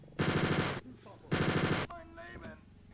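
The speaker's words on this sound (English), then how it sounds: "That definitely was a good call for the chain gun." Two rapid bursts of heavy automatic gunfire from a rotating chain gun in Wolfenstein 3D, each about half a second, with game sounds and brief voices in between.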